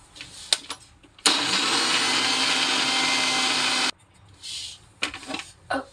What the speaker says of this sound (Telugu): ఓకేనా, ఇది మళ్ళీ గ్రైండ్ చేసుకో.